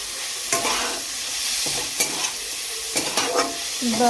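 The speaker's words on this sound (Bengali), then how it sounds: "মাছ ভাজা বসিয়ে দিয়েছি চিংড়ি মাছটা" Large prawns cut in halves sizzle steadily in a hot pan for a restaurant-style mixed fried rice, a dense continuous frying hiss broken by a few sharp clatters of stirring, close and loud with no talk.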